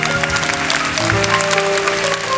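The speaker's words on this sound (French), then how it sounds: "On applaudit très fort Anne." Studio audience applauding on a 1977 French children's television talent show, a continuous, loud wash of clapping with a steady musical tone running beneath it.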